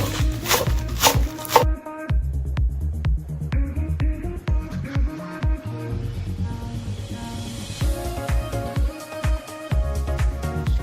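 A plastic knife shredding vegetables on a cutting board for vegan flaxseed wraps, producing loud, close, repeated chopping knocks in an irregular rhythm with short gaps.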